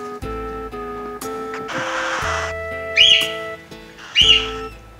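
Cockatiels call from the background in two sharp, shrill whistled chirps, each briefly louder, over a soft tonal musical backdrop and a burst of hissy noise.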